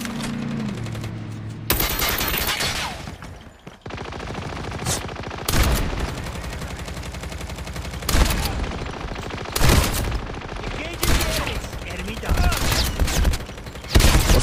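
Shotgun blasts ring out in a first-person shooter on the Blackout map: several loud, booming shots at irregular intervals with noisy game action in between.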